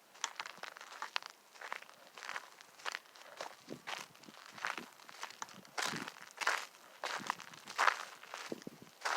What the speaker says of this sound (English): I'm walking back over here to see if I can get some of that crunch sound